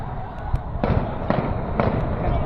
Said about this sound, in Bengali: নন স্টপ গুলি করতেছে তো